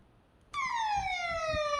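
A loud electronic alarm from a DIY wireless fall alert circuit, sounding like a police siren, starts abruptly after a brief silence and holds steady, sliding slowly downward in pitch.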